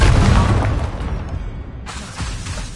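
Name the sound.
Confringo explosion spell in Hogwarts Legacy video game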